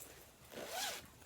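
A zipper with an arrow-shaped pull on a ring-style project bag is drawn once in a quick rising rasp, close and clear with no talking.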